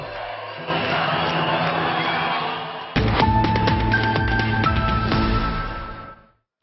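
Students jeer and boo loudly as a crowd, a sustained, rowdy din of shouting voices that swells after a sharp jolt partway through, then cuts off.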